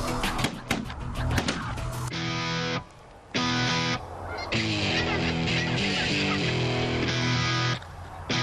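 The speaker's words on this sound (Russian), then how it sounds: "тогда небо заполнили гуси" Geese honk in flight over a hunting area, a loud chorus of overlapping nasal calls that comes in repeated bursts, with brief pauses between them and no talking.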